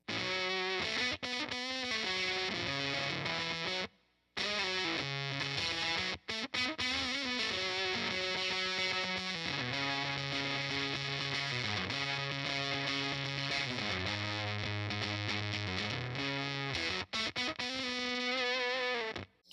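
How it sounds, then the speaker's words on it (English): A heavily distorted electric guitar plays riffs through a sputtery, gated fuzz tone, breaking up and cutting out between notes. "It's going to be real sputtery, more of a velcro, almost like an Ampeg scrambler kind of sound."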